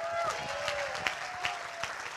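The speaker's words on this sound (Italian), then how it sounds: "Giovanni Totti, un grande applauso." Applause from a crowd in an auditorium rolls on in a steady wash of claps, with a few sharper claps standing out and some faint tonal sounds over it.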